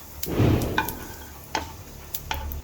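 Cumin seeds dropped into hot oil for a tempering, giving a brief burst of close sizzling followed by soft stirring scrapes and clinks, with no talking.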